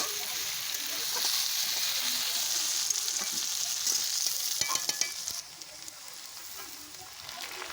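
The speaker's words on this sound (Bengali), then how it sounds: "দেখো আলুগুলো একটু ভালো করে ভেজে নিতে হবে" Potatoes fry in oil in a pan for a pointed gourd dish, a loud, dense close-up sizzle with scattered stirring clicks that drops in level partway through but keeps hissing.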